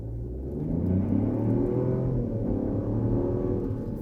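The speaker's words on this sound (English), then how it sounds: "All right, they're going to do a little 0 to 60 here as well." A 2024 Buick Envista with a small engine accelerating hard from 0 to 60, a close, loud, steady engine drone that rises in pitch under road rumble, with no talking.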